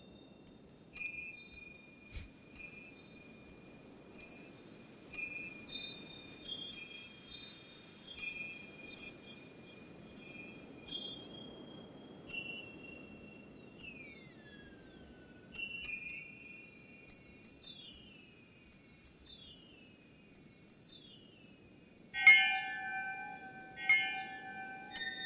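Chimes ring in a bright, tinkling sequence of sustained metallic tones, struck repeatedly and overlapping as they decay over a soft hum.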